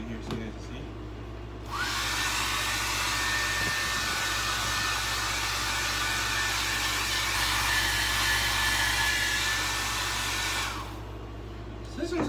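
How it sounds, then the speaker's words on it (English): An old hair dryer switches on after a brief pause, blows with a steady loud whooshing hum for about nine seconds, then cuts off. "So you have another hair dryer."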